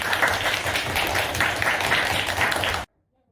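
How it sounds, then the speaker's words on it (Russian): Dense, sustained applause from a school audience fills the room at a first grade class's year-end event, steady and loud throughout before cutting off abruptly to silence. "Бурные аплодисменты."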